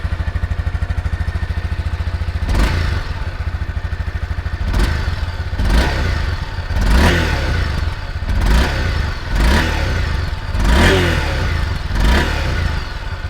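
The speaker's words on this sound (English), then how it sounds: "let's start the engine and let me give you a listen on what it sounds like." A 2022 Honda CB300F motorcycle idles with a steady low thrum, then its engine is blipped in a series of sharp revs, about six throttle bursts rising and falling close by, each followed by a return to idle.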